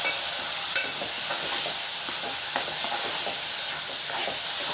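Washed moong dal frying in oil gives a continuous bright sizzle and hiss, with light scraping taps of stirring throughout.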